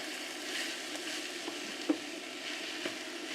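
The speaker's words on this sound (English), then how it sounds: "Just stir it in and get it all coated in this lovely orange chorizo sausage oil." Chorizo and seafood are stirred through orange chorizo oil in a pan, giving a close, continuous crackling sizzle with light scraping stir sounds and a few small pops.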